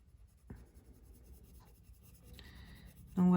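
Colouring pencil or marker scratching across a page of a Madame de Trémaine colouring book, a few soft, slow strokes close by, ending with a louder rub.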